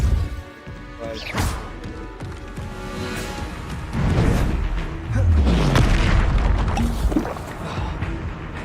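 Spell impacts in the Hogwarts Legacy video game, repeated heavy booms, crashes and thuds from combat magic, loud and close, with whooshing bursts between hits.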